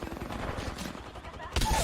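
Rapid shotgun fire in Apex Legends: a dense run of booming blasts and bangs with no gaps, loud and close, swelling into a heavier burst near the end.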